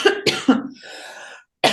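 Several sharp coughs in quick succession up close, followed by a short raspy throat sound, then another cough at the end.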